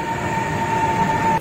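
A freight train overtakes the moving Jharkhand Sampark Kranti Express passenger train, a loud steady rail rumble with a thin sustained whine, continuous throughout the short stretch.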